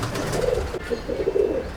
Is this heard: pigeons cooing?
yes